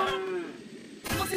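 A cartoon cow moos in a Paw Patrol rescue-mission video game, a single short, mid-pitched lowing call that starts abruptly, trails off, and is followed by another game sound.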